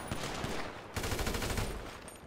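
Rapid automatic gunfire in the video game Grand Theft Auto V, a dense continuous rattle of shots that briefly drops at about one second before resuming, loud and without talking.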